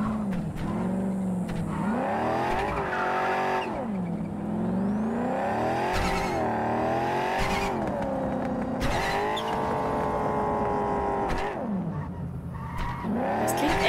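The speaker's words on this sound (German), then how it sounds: "Das klingt echt gefährlich, das Auto." A car engine in the video game Cyberpunk 2077 revs up and down repeatedly, its pitch sweeping in loud, continuous waves with occasional tire-squeal-like edges throughout.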